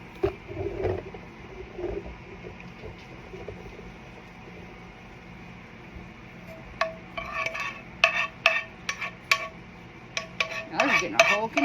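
Food being spooned onto a surface during a meal-kit cook, a quiet stretch of faint kitchen noise followed by a cluster of close clinks and scrapes of the spoon in the second half.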